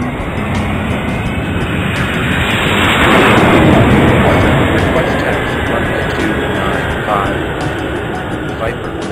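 In the game Airport Madness 4, an airplane takes off with a loud jet roar that swells and then fades, while radio-style voices talk over it.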